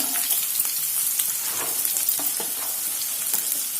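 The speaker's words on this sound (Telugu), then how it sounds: "వీటిని వేసుకొని మంచిగా వేపుకోవాలి వాటిని." Thinly sliced onions with green chillies fry in a pan for spicy pepper chicken, a bright steady sizzle broken by repeated spatula stirs and scrapes, close up with no talking.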